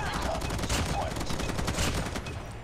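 M4 rifle fire in Call of Duty Mobile: rapid, loud bursts of automatic shots crackle close and continuous for a couple of seconds, the level dipping slightly at the end.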